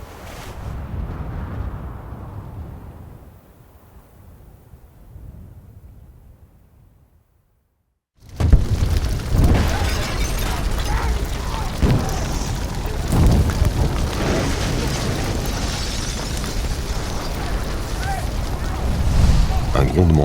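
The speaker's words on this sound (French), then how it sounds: "Un grondement sourd, puissant et continu, entrecoupé d'explosions" A deep, powerful, continuous rumbling pours from a main building, broken by heavy explosive bursts, rising sharply after a moment of near silence and staying loud with rough, crackling surges.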